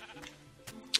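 A single sheep bleats in Minecraft, a short faint bleat near the end after quiet game ambience.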